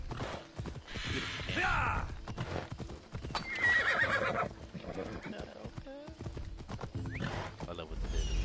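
A horse in Assassin's Creed Odyssey clip-clops near at hand and gives loud, repeated whinnies, mixed with someone talking over it.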